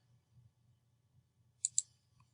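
A computer mouse clicks on a website icon, two quick sharp clicks close together near the end, over a faint low hum.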